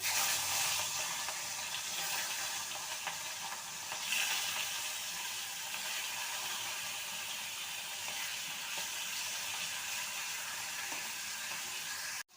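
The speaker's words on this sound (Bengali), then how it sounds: "তেলটা গরম হয়ে গেছে মাছগুলো ছেড়ে দেবো" Hilsa fish pieces fry in hot mustard oil in a wok, a steady loud hiss and crackle of sizzling that continues throughout, close by.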